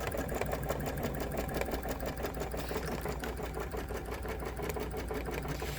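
A Luminaire 2 embroidery machine stitches a hexagon sash quilting pattern on a quilt, a fast, even mechanical chatter running continuously and fairly quiet, with no talk.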